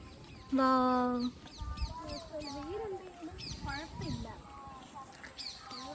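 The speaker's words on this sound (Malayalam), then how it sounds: "കിളികളുടെയൊക്കെ ശബ്ദമൊക്കെ ഉണ്ട്" Several birds chirp and call outdoors by a small stream on a sunny day, including a squawking fowl-like cry, while a person talks quietly nearby.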